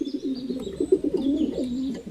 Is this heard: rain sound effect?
no